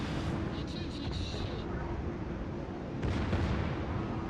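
Naval guns boom as armor-piercing shells fire in a warship video game, deep rumbling blasts under steady engine and sea noise, with someone talking over the action.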